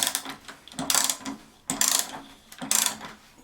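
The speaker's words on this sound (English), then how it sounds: "now we'll tighten this 11/16 bolt up" A half-inch ratchet tightening an 11/16 bolt on a red cedar chair, three short bursts of rapid clicking close by, separated by brief pauses.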